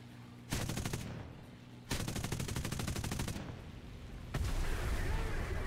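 Three loud bursts of rapid automatic gunfire from a video game, each burst a dense rattling stream of shots lasting over a second, separated by short pauses, with the last burst hitting hardest.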